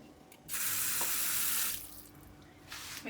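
A tap runs water into a cooking pot for chicken pastilla with almonds, a steady close gush lasting over a second before it cuts off, followed by a brief second splash.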